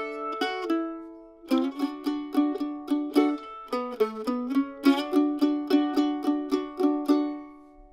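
A mandolin plays the closing phrase of a tune: a steady run of crisp plucked notes after a brief opening lick, close and clear with no talking.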